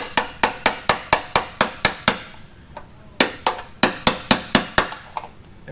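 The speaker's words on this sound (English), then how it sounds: "Now we'll just hammer this ring back in place." Repeated sharp metal hammer strikes tapping a ring back into place on a fuel pump during fuel system work for an L83 engine, a steady run of about nine close blows, a pause, then another run of hits.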